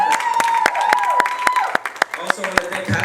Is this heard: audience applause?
yes